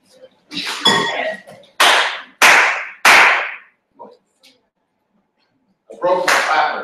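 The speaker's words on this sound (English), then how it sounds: "You like my clap?" Several sharp, loud hand claps in an irregular rhythm, close to the microphone, with short silent gaps between them and a final burst of sound near the end.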